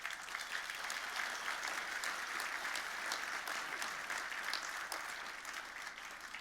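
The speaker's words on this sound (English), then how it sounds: "what we want to hear at Victoria University graduation ceremony is everybody clapping every student and cheering every student" Large audience at a Victoria University graduation ceremony in Melbourne clapping steadily, a dense, even wash of applause that stays loud throughout with no talk over it.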